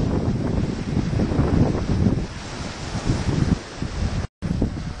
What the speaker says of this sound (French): Les alizés soufflent tout droit vers Pointe-à-Pitre.